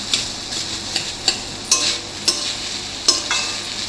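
Jeera rice ingredients frying in a pan: a steady close sizzle broken by repeated short scraping strokes of a spoon stirring, about six or seven clear stirs spaced unevenly, with no voices.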